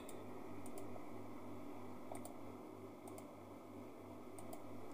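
Clicks and key taps from entering a search into the Play Store search bar on an Imperial smart cloud TV, a few sparse sharp ticks over a steady low hum, quiet and close.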